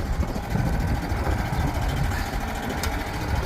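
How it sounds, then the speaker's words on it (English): A 900-pound plate compactor's engine running outdoors on a windy site, a loud continuous low rumbling chug with a rough, even idle throughout the short stretch. "She's a 900-pound plate compactor."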